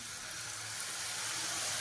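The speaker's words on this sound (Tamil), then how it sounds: "அடுத்து கொஞ்சமாக தண்ணி ஊற்றிக்கிறேன்." Water poured into ground masala frying in a pan for a Tamil chickpea kadala curry gives a soft, steady sizzling hiss, close but quiet, with no talking.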